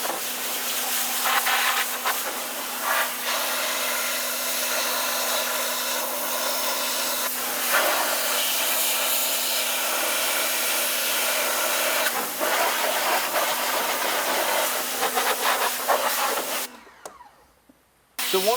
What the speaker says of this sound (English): you don't want a pressure washer that has too much PSI